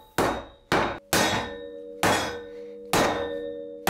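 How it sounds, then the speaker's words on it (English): Five hard metallic strikes of a hammer driving a chisel into a steel plate on a metal motorcycle workbench, each blow ringing on with a bright, sustained tone, in an uneven rhythm, loud and close. "I took out the chisel and just chiseled away until it fit"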